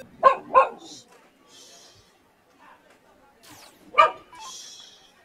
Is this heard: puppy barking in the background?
yes